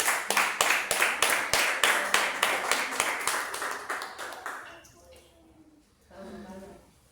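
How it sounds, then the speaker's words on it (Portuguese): A church congregation claps in a steady rhythmic beat for several seconds, then the clapping fades out and a voice speaks quietly afterward. "Dê uma salva de palmas para o Senhor."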